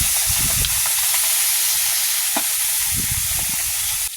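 Small mourola fish frying in hot oil with spices, a loud steady sizzle and hiss filling the whole stretch, with low clattering bumps from the pan beneath.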